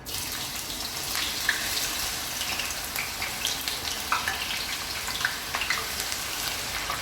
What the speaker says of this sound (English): We are going to deep fry them till they turn golden brown